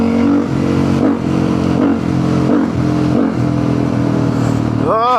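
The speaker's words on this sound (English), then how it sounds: "just for you to hear properly the exhaust sound" Supermoto motorcycle exhaust while riding on a sunny day, a loud steady engine drone with rhythmic rising and falling revs through the gears and a sharp rev climb at the end.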